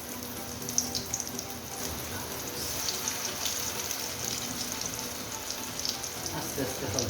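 Chicken chap shallow frying in a little oil gives a steady, even sizzle and crackle with scattered pops, close and moderately loud throughout, with no talk over it.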